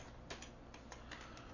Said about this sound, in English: click in the address bar here and type in my address